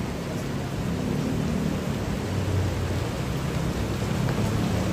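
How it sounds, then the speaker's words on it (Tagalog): Heavy rain pours down steadily at night during a flood watch, a dense, even hiss of downpour close by with a low rumbling undertone and no voices. "Tuloy pa rin po ang buhos ng ulan."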